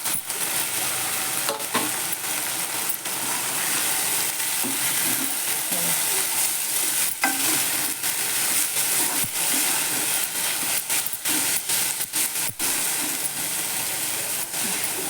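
Veg Hakka noodles stir-fried with red chili sauce in a hot pan, a loud, steady sizzle and hiss with repeated scraping and tossing strokes throughout.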